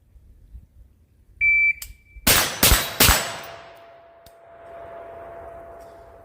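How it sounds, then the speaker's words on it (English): A timer beep, then three loud close rifle shots from an SPR fired with a red dot sight in quick succession, each crack trailing into echo, followed by a faint steel target ring. "3 rounds with the red dot"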